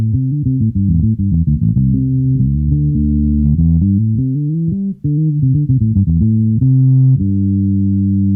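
Bass guitar run through the Darkglass Anagram Entropia block with a low-pass filter soloed, leaving only muffled, rounded low notes moving through a steady melodic line with the treble cut away.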